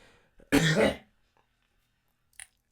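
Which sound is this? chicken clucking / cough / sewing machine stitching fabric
cough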